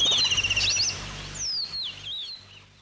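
Small birds chirp and tweet in quick high bursts, first a busy cluster of calls, then thinner sweeping chirps, fairly close and alone.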